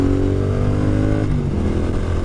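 A Triumph motorcycle engine pulls hard out of a corner, heard close and loud as a continuous throaty drone that shifts pitch partway through as the revs change.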